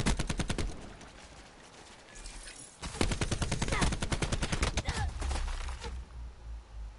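Video game gunfire through wooden cover: quick bursts of automatic shots, a rapid volley, a short pause, then a longer sustained string of sharp reports, moderately loud with faint voice underneath.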